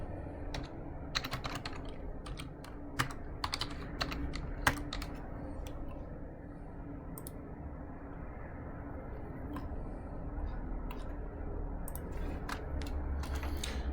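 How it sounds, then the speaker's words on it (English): Computer keyboard typing: bursts of quick key clicks, close and fairly soft, scattered through the first several seconds and then thinning to occasional taps over a steady low hum. "So let's type the answer."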